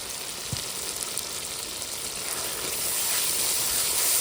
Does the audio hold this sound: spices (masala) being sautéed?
yes